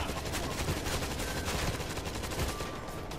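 Enemy auto turrets in a video game fire rapid, dense bursts of automatic gunfire, loud and close, forming a continuous barrage with no speech over it.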